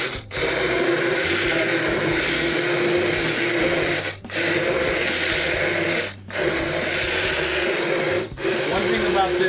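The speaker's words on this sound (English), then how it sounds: "before we started the immersion blender" An immersion blender grinding cooked tomatoes into homemade crushed tomato sauce, a loud sustained motor whir broken by three or four brief dips as it is pulsed, with people talking over it.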